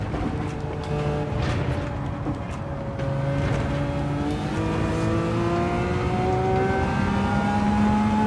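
Race car engine in Gran Turismo 7 revving steadily, several rising harmonic lines climbing together as it pulls up through the revs, loud and continuous throughout with no talk.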